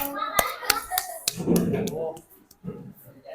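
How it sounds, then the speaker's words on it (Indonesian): Several sharp hand claps ring out in an irregular burst in a classroom, mixed with a voice and other talk nearby. "Tepuk tangan buat Widi"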